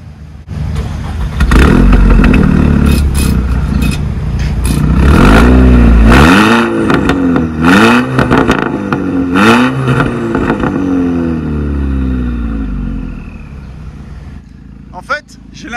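A Volkswagen Golf 6R engine starts and revs hard, a loud close burst followed by a series of rising and falling throttle sweeps over a rumbling idle, settling down near the end.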